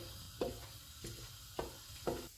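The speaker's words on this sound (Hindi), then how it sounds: "इसमें साबुत मसाला डालेंगे। इसको 30 सेकंड तक फ्राई करेंगे।" Whole spices frying in hot oil for a chicken korma, a quiet sizzle broken by four sharp stirring clicks spaced about half a second apart, close by.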